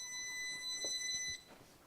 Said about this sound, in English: that buzzer sounded a bit funny